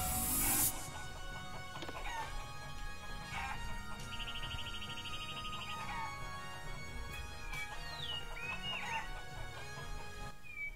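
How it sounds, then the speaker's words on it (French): Chickens clucking in the video game Shenmue, with repeated rooster-like calls and fowl chatter over game music and ambience, a sharp burst at the start, the birds fairly close and steady for about ten seconds. "Encore des poules."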